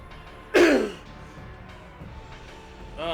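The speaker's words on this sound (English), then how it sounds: "Sorry for all this coughing." One sharp, loud cough from a nearby person, followed by faint throat sounds and quieter speech-like noise.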